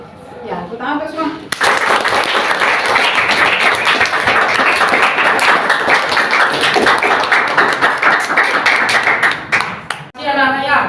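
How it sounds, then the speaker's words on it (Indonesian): Sustained applause from a room full of people at a school session, dense and loud for about eight seconds, with talking before it starts and after it fades. "Ya, tepuk tangan untuk semua."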